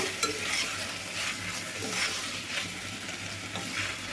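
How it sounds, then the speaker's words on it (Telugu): Onion pieces fry on a medium flame, giving a steady close sizzle with repeated soft stirring scrapes and occasional light utensil taps. "ఉల్లిపాయ ముక్కలు వేసుకున్న తర్వాత మనం సాఫ్ట్గా అయితే అయ్యేదాకైతే మీడియం ఫ్లేమ్లో వేయించుకోవాలండి"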